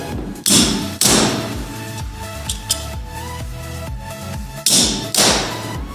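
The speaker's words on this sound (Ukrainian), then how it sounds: "Кістьовим ударом просто робимо по лінії декілька ударів" Sharp metallic hammer strikes on a chisel cutting metal, a few spaced blows with ringing tails, close and loud, with lighter taps between.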